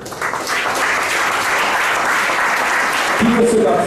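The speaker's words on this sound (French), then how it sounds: "Acclamez pour elle." Sustained applause from a church congregation fills the space, a dense steady wash of clapping that carries on throughout, with faint voices and a brief tonal sound near the end.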